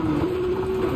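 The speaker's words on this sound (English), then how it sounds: "I hate that chime" In-game car chime in Gran Turismo 7, a steady sustained electronic tone held for about a second, loud and alone with no talking.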